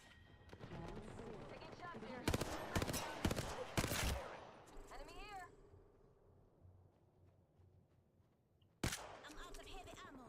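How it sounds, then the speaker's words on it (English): Enemies fire in a video game: a rapid cluster of loud gunshots, then quieter game sounds, then another sharp shot near the end, with voices talking throughout. "The enemies are shooting at me"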